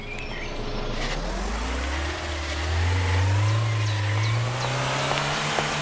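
Car driving in the Trader Life Simulator 2 video game, its engine humming steadily and rising in pitch as it accelerates, then holding a higher drone; continuous and close, with no talk.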